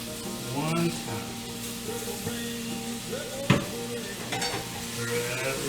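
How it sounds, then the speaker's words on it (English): Food coated in honey is stirred in a hot pan, giving a steady sizzle with occasional scraping clinks and a brief louder knock midway, close by. "Stir that up real good."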